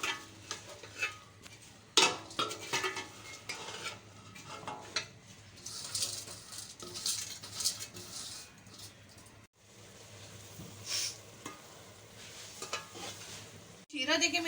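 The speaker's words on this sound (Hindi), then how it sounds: "चलाऊंगी जब तक शीरा बेशक नहीं हो जाता।" Boondi pearls being stirred through hot sugar syrup in a pan for motichur laddu, giving a steady soft scraping and sizzling texture with occasional utensil clinks over several seconds.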